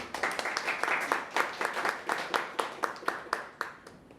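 Applause from a small Toastmasters club audience, a modest group clapping in a brisk, uneven patter with individual claps audible, then tapering into sparser, distinct hand claps.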